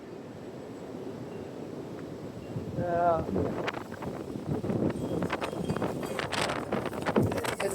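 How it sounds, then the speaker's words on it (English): Gusty wind buffeting the microphone in low rumbles, with a person talking over it for much of the time. "it's very windy"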